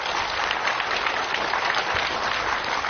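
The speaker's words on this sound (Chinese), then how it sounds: "我们掌声欢迎王健林先生入座" A studio audience at a televised talk show applauds as the guest Wang Jianlin takes his seat. The clapping is steady and sustained throughout, with no voices over it.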